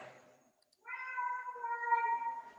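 A cat meows nearby: a soft, drawn-out, wavering call after a brief quiet pause in a calm room.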